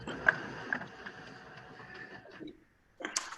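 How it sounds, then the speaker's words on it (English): An office printer runs with a soft mechanical whir and faint ticking that stops after about two and a half seconds. The sound is quiet and heard up close, against light room noise. "And there's the printer."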